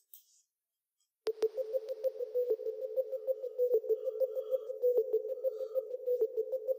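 A GMS synth preset in an FL Studio amapiano beat plays a rapid, pulsing pluck-like tone repeating in a steady rhythm, fairly quiet and clean, starting after a brief silence.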